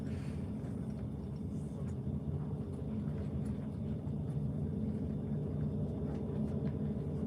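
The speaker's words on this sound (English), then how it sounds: "It's like the third time I've seen that drone driving out here. Yeah, it's loud." A drone flies overhead above the frozen Fox River during ice fishing, its steady low droning rumble continuous and moderately distant with no break.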